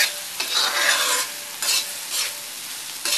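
Stuffed spiny gourd sizzles as it is sautéed in a pan, a steady close fry broken by repeated scraping strokes of stirring, with no talk.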